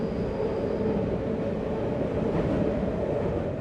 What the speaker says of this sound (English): Today, about 700 metro carriages come over the bridge every day.